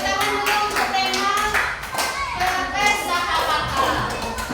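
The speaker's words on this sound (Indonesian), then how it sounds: "tepuk tangan dulu untuk tema" A class of children clapping their hands together in a classroom, a rapid rhythmic patter of many hands mixed with young voices and chatter throughout.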